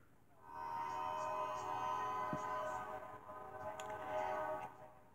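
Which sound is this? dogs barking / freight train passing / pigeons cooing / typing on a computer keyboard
freight train passing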